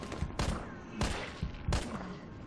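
Four loud, evenly spaced gunshots from Resident Evil 3, each a sharp crack with a short decaying tail, fired about half a second apart.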